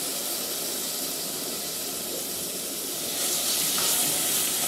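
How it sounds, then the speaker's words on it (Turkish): Tomatoes sauté in olive oil for a Turkish tomato noodle dish, a steady close sizzle and crackle throughout that grows slightly louder and brighter toward the end. "Şimdi biraz bunu kavuracağım."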